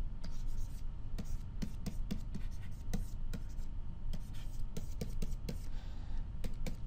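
Pen or marker scratching out math expressions by hand, a steady run of small scraping strokes and taps close up, with faint background noise throughout.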